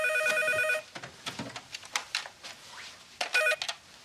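A telephone rings indoors, loud and close: a bright electronic trill, a stretch of clattering household noise, then the trill again.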